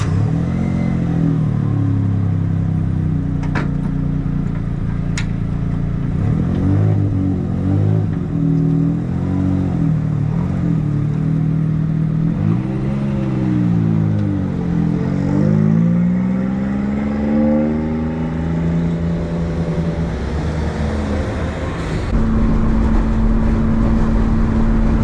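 A Suzuki Cappuccino small car on a cross-country road trip, its engine droning steadily with rising and falling revs as it shifts through gears, close and continuous with road noise throughout, no talking.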